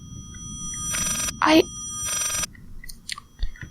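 Old telephone ringing in the game Layers of Fear, two distinct ring bursts with a short rising tone between them, over a low ambient background.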